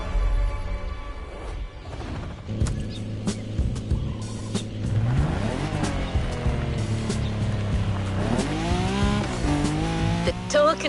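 Mercedes AMG One driven in The Crew Motorfest, its engine revving and rising in pitch through gear changes, with tire noise and a voice talking over it.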